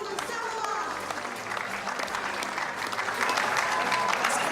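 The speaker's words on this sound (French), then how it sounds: "Samoa qui défile sous les applaudissements du public du stade de Kafika" A stadium crowd at the Mini Games closing ceremony in Kafika applauds the parading Samoa delegation. Sustained, loud mass clapping fills the open air, and a voice talks over it.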